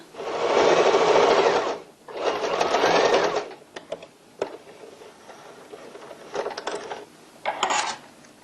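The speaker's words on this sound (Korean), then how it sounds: "다시 노루발 내린 다음에 박음질 하시면 됩니다" A sewing machine stitches a tote bag, with two long, loud runs of rapid stitching. Brief clicks, small taps and short bursts of the mechanism follow as the fabric is adjusted.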